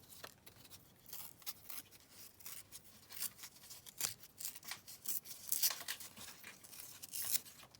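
Paper sticker being torn slowly around its edge, a string of close, soft ripping and crinkling bursts that come and go in short pulls with quiet gaps between them.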